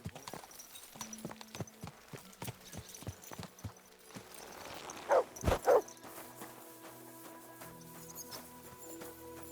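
Horse hooves in Kingdom Come: Deliverance II, a steady, even clip-clop of hoofbeats on hard ground, fairly close, followed by a few louder thumps and a low ambient bed.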